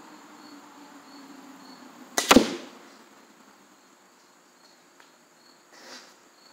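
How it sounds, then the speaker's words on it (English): A Killer Instinct 370 crossbow fires an arrow at about 118 foot-pounds. One sharp, loud snap and thump of the release sounds against quiet outdoor background with insects chirping, and a faint second impact follows a few seconds later. "All right, I'm about to shoot."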